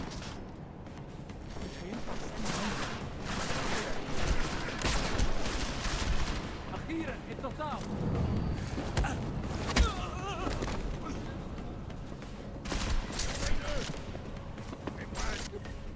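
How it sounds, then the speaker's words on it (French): Gunfire during combat in the video game Deus Ex: Mankind Divided, with bursts of shots and mechanical clatter layered over game music and effects, while someone talks over it. "Oh, on me tire dessus!"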